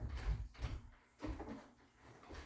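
A room door is pushed open and drags where it sticks on the carpet, giving several soft, low thumps and scuffs spaced irregularly, faint and close by.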